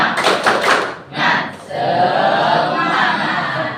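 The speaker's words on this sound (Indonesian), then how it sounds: "Ibu minta kita mengadakan tepuk semangat sebanyak 2 kali, ya." A class at an Indonesian junior high school does a rhythmic spirit clap: quick bursts of group clapping in a patterned beat, then a loud shout from the whole class that rings out as a sustained cheer.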